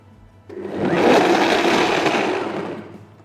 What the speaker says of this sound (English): So let's blend this up.